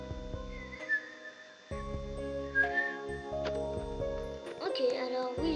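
A young person's attempt at whistling: short, wavering tonal whistles starting and stopping over a game's steady background music and effects.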